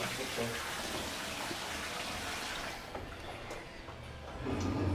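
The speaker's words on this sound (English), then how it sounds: "Turn on the bubbles." Jetted bathtub bubble jets switched on send a loud, steady rushing roar of churning water that fills the clip, briefly easing before surging again near the end.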